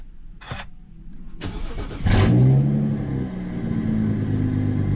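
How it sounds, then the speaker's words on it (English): Cold start of a straight-piped BMW M235i with N55 engine: a couple of starter clicks and cranking, then the engine catches with a loud flare and settles into a steady, fairly subdued idle, heard close. "you guys will be able to hear the actual cold start and hear how quiet this is"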